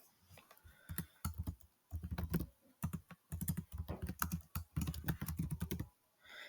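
Rapid typing on a computer keyboard: close, crisp key clicks in quick bursts with short pauses between words, steady for several seconds and quiet overall, with no talking.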